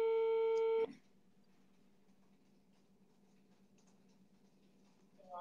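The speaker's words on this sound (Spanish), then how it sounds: "¿Es el teléfono de Juan Pérez?" A telephone tone on a call sounds loud and steady for about a second, then cuts off to a faint line hiss, with a brief tone returning at the end.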